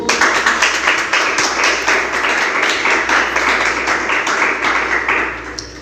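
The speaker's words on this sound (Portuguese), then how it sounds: "Você pode aplaudir o Senhor?" A church congregation claps and applauds together in a steady, dense burst of hand claps that fills the room and carries on throughout without a break.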